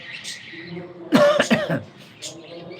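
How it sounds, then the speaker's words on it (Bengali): A person gives a close burst of two or three harsh coughs in the middle, with quieter throat sounds before and after. "কাশি হচ্ছে তো"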